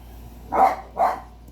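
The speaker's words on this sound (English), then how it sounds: "Hey, Peanut, stop your barking." A pet dog named Peanut barks twice, two clear, fairly close barks about half a second apart, with quiet room sound around them.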